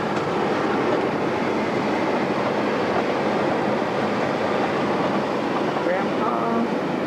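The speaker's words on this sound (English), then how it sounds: "That is a long train." A very long freight train rolls past on a town street lined with brick roads, a steady, loud rumble and clatter of cars running continuously from start to finish, with a little voice faintly underneath.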